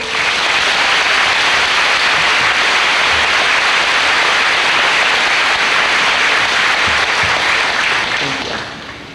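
Loud, sustained applause from the crowd at a 2007 high school graduation ceremony in Ste. Genevieve, Missouri, steady clapping throughout that tapers off at the end.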